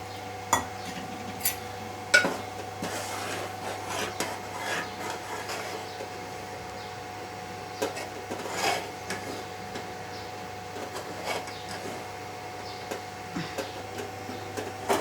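Rice flour is stirred into boiling water in a pot, a spoon scraping and rubbing against the pot in uneven strokes with occasional knocks. The sound is close and fairly quiet, and no voices are heard.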